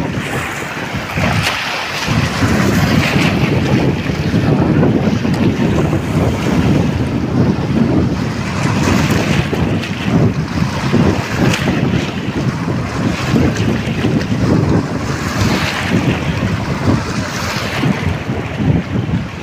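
Krishna river water rushing through the ghat at Veltur, a loud, steady roaring wash that stays close and continuous throughout, with wind buffeting the microphone.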